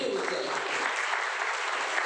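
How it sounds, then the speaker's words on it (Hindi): A church congregation applauds during a Hindi-language Thanksgiving service, with dense, steady clapping filling the room throughout and voices mixed in. "ताली तो बजाइए।"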